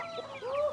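A turkey on a farm gives a short gobbling call, close and fairly clear, lasting under a second with no talk.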